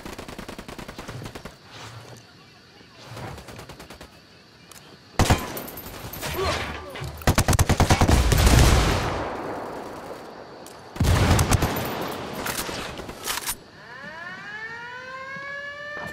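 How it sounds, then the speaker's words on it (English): Bursts of automatic gunfire from a cartel firefight in Ghost Recon Wildlands, with loud sustained volleys between quieter stretches as a siren wails and rises in the background. "Shots fired."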